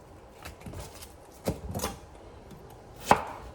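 A knife cuts a peeled onion in half on a cutting board, making a few sparse, quiet thuds and one sharper chop near the end over a soft room hush.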